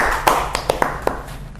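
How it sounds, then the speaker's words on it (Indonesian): A few scattered, sparse hand claps ring out close by after a remark in an Indonesian interview setting, uneven and brief over faint background hum. "tepuk tangan dong"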